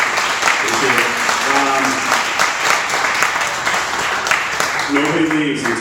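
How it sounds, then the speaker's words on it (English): Steady applause from a crowd at an eCommerce conference fills the whole stretch, with a few voices calling out over the clapping. "Guys, round of applause"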